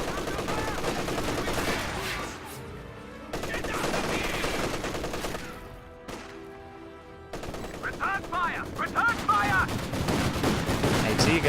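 Rapid gunfire and machine-gun bursts crackle through a Company of Heroes-style multiplayer finals match, with dense rattling volleys and sharp shots rising and falling across the fight.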